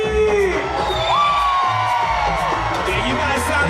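Crowd cheering and screaming at a SeaWorld Orlando nighttime show, loud whoops and yells from the audience rising and falling, with an amplified voice cutting in over the noise.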